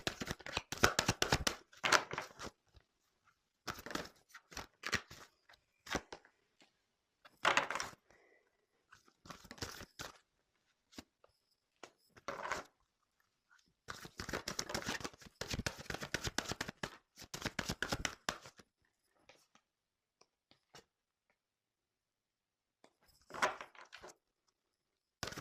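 Tarot cards shuffled and drawn by hand for a reading, giving bursts of crisp riffling and slapping with quiet gaps between them. The sound is close and dry, with almost no talk.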